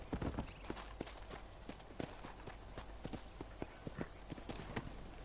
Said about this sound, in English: we're just gonna put our horse over here.